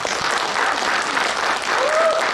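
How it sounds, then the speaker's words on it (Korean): Audience applause at a book talk and lecture in a press center hall, a steady wash of many hands clapping at an even level for a couple of seconds with no voices over it. "큰 박수로 부탁드립니다"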